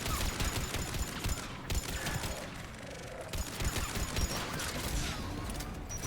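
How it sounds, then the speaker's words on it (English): Rocket launcher fire and explosions in Mass Effect 3 come as dense, loud rapid blasts and crashing bursts, with brief lulls between volleys and no speech. "Rocket launchers everywhere"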